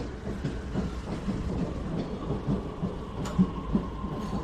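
A train rumbles steadily nearby with low rolling noise and faint rhythmic clacks, a sharp squeak or clank rising briefly toward the end.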